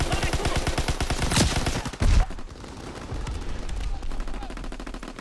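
Rapid automatic gunfire from the World War II shooter Call of Duty WWII rattles in a fast, evenly spaced burst for about two seconds, ends with a heavy blast, then lighter scattered shots continue at a lower level.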